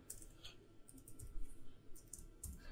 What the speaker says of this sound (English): So I'm going to type in first app here.